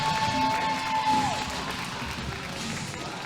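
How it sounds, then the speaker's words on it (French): Crowd applause and cheering for young skater Gabriel at an under-18 qualifying competition, a steady broadband wash of clapping that fades slightly over a few seconds, with a faint tone and crowd noise beneath. "Applaudissements pour Gabriel."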